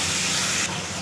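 Tempering spices for a pabda fish curry sizzle in hot oil with a steady, loud, close hiss, easing slightly partway through the brief second.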